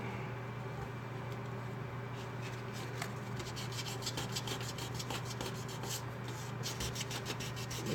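Steady light sanding over a dyed pen blank's finish to clean up sand spots, a continuous soft rasping rub with faint ticking scratches against a low, constant motor hum.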